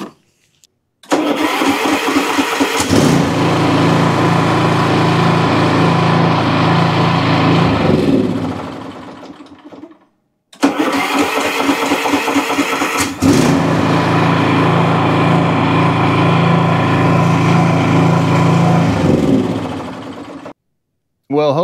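A Toro TimeMaster lawn mower engine starts and runs after a starter repair: two separate starts, each a brief cranking chatter that catches into a loud, steady close engine drone before cutting off.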